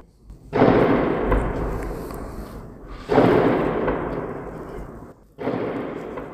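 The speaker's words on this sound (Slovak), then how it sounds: "Bomby vybuchovali len pár 100 metrov od nás." Artillery shells bursting a few hundred metres away near a main road out of Irpin toward Kyiv: three loud, deep booms, each rolling off in a long fading rumble, with no voices.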